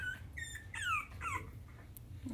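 A French bulldog puppy whimpers and lets out rising, squeaky howls in short bursts, close by over a low background hum.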